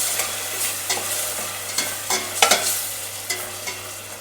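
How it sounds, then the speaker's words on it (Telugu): Tomatoes are stirred into onions and curry leaves frying in a pan, a steady close sizzle broken by scraping spoon strokes at irregular intervals, with no voices. "ఇప్పుడు ఇందులో టమాటా వేసుకోవాలి టమాటా కలుపుకోవాలి"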